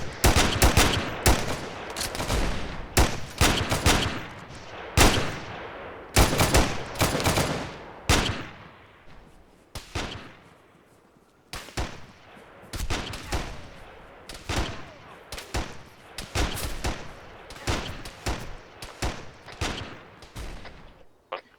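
Bursts of gunfire from a military combat game, Arma 3, ring out in rapid volleys and single sharp shots, loud and close, with brief pauses between clusters across the whole stretch.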